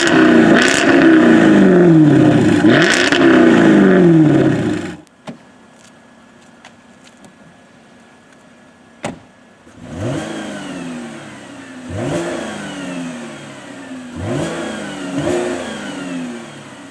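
A Jaguar F-Type V8 S exhaust barks through repeated sharp revs, loud rising and falling blips close by, first a hard burst, then a pause, then several softer throttle pulls.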